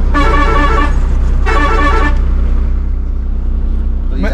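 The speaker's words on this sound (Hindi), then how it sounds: "सोचा नहीं था कभी हॉर्न भी सुनाएंगे ना।" Two loud blasts of a truck horn sound close by, each lasting about half a second with a short gap between, over a steady low engine rumble that continues afterward.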